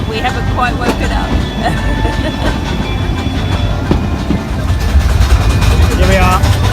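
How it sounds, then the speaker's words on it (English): A steam toy train rolls along the rack and pinion mountain railway to Ooty in India, its wheels rumbling and rattling steadily with faint squeals, while people talk nearby. "We're on the toy train!"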